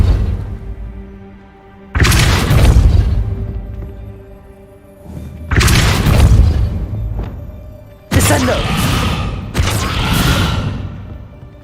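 Casting the Depulso spell in Hogwarts Legacy sets off loud, sudden magical blasts, each a sharp whooshing burst that rises and slowly fades, heard four times in close succession.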